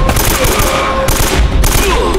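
Sustained automatic gunfire in the PS5 remaster of Uncharted: Drake's Fortune, a loud dense fusillade of rapid shots with bursts of louder impacts, filling the whole stretch without pause.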